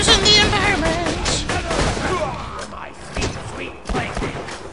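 Rapid gunfire crackles in Borderlands 2, dense bursts of shots and thuds layered together, loud and close, with an excited voice talking over the shooting.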